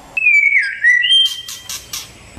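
A white-rumped shama (murai batu) sings alone and close by: a clear, sliding whistled phrase runs into a rising note, followed by three or four quick, bright chirps.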